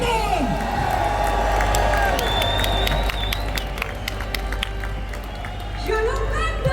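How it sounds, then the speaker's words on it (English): A crowd at a London rally applauds and cheers for a speaker, with scattered whoops and whistles over steady clapping. Voices shout in the background. "Give a big round of applause, come on!"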